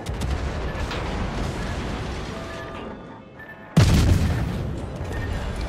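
Naval guns firing in World of Warships: a low, continuous rumble of battle that dips briefly and then erupts into a loud, heavy boom with a sustained roar afterward.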